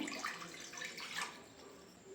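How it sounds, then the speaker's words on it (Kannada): Water poured into a pressure cooker in a home kitchen, a steady splashing pour heard up close on its own with no talk, easing slightly toward the end. "ಕುಕ್ಕರ್ಗೆ ಸ್ವಲ್ಪ ನೀರು ಹಾಕ್ತಾಯಿದ್ದೀನಿ."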